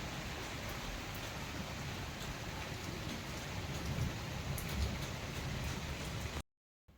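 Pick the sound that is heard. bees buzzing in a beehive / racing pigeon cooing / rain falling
rain falling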